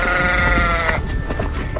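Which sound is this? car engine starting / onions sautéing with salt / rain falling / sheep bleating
sheep bleating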